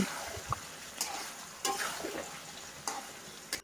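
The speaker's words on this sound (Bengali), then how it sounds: "আমি আরেক পাশে আবার আলু ভাজাভাজি করে নিচ্ছে মাংসতে দেওয়ার জন্য" Potatoes fry in hot oil for a meat curry, a steady low sizzle with a few sharper crackles and stirring clatters, heard alone at close range and fairly quiet.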